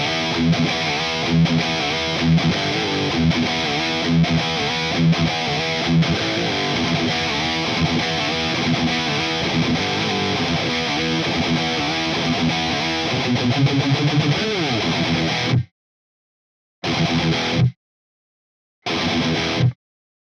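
Electric guitar played through a Furman PQ3 clone preamp pushed into breakup, a loud, dense, gritty overdriven tone with rhythmic strummed chords, then cut off abruptly into short silent gaps between final bursts.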